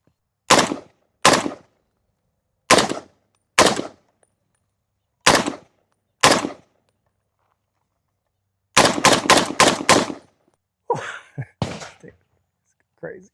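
An FN SCAR 17 .308 battle rifle fires outdoors: six sharp, loud single shots spaced about a second apart, then a rapid string of five, followed by brief fainter vocal sounds.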